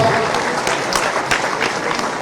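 A large crowd at a Vijay Sankalp Sabha political rally claps steadily and densely, a loud continuous wash of applause with scattered sharper claps throughout.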